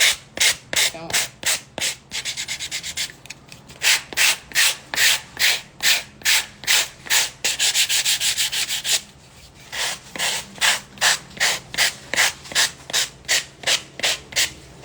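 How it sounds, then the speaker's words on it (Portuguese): Sandpaper rubbed by hand over a wooden sewing box, close and steady, in a long run of quick rhythmic back-and-forth strokes with a brief denser stretch midway. "E aí aqui a gente vai lixar"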